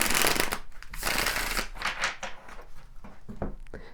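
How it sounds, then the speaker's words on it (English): Tarot cards being shuffled and drawn, a dense run of riffling, flicking card noise with several sharp slaps and pauses, close and fairly loud with no talk. "Let's pull some tarot cards here."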